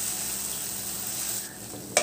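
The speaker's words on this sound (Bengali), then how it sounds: "1 চামচ লঙ্কার গুঁড়ো দিয়ে আবার সব একসাথে নাড়ব" Ground coriander, cumin, turmeric and chili powder are stirred together in a frying pan, giving a steady soft sizzle and scraping with one sharper clink near the end.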